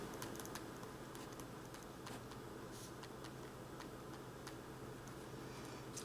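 Faint, quick taps on a calculator keypad keep a steady clicking pattern over low room hum, with no voices.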